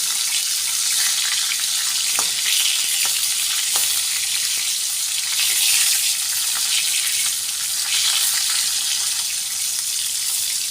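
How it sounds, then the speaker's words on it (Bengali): Pointed gourd pieces rubbed with salt and turmeric fry in oil, a steady loud sizzle with a few faint taps as the pieces are turned. "পটলগুলো উল্টে পাল্টে ভেজে নেব।"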